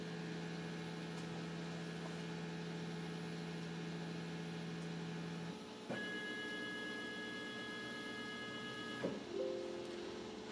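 CNC machine probing its tool on a touch plate: a steady mechanical hum and whine that shifts pitch partway through, with a faint click near the end, close and continuous.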